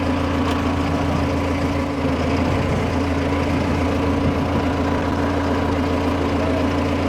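A tractor fitted with a Bull front loader attachment runs at a steady idle, a loud, continuous low engine drone that stays even throughout.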